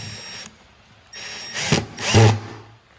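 A power drill drives screws into a homemade battery box, its motor whining in short bursts that rise and strain, with a pause between runs and a final louder drive, close and loud.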